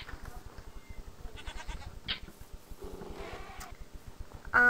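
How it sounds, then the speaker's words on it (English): Goats in the video game Minecraft bleat in a few short, nasal cries over a steady rhythmic game soundtrack, moderately close and fairly faint, with no talking. "Oh yeah, there's goats too."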